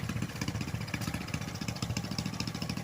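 A motorcycle engine putters nearby at a low, steady idle, its rapid, even pulses running throughout without any voices.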